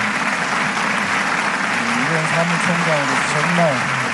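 Audience applause at a peace rally honouring Ban Ki-moon, the eighth UN Secretary General, a steady wash of clapping with a voice speaking over it partway through.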